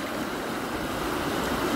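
Fast water rushes steadily over bare rocks at a bend in a stream with a slight gradient. The broadband rushing is loud and continuous for the whole couple of seconds, with no speech over it.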